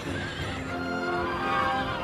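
Heavenly horses neigh in a legend of the Monkey King, with a long, loud, quavering whinny layered over a continuous rumble and faint hoof clatter.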